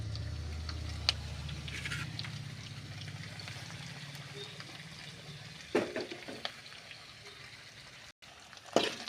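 Drumstick leaves sauté in lightly warmed oil in a pan, giving a steady soft sizzle and crackle with occasional scraping stirs, fairly quiet and close, without talk.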